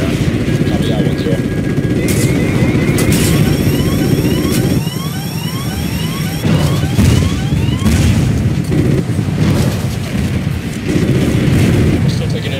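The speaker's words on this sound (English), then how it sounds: "We're still taking enemy AA fire from behind the smokestacks." Enemy anti-aircraft fire and explosions from Call of Duty: Ghosts during an aerial gunship mission, continuous loud booming and rumbling with engine drone, while radio chatter runs over the battle.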